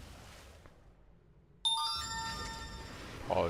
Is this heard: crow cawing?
no